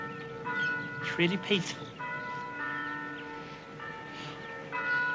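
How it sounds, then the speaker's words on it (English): A bell tolls with long, ringing tones in a quiet, shady park, while someone speaks briefly over the steady resonant hum. "listening to the bell toll"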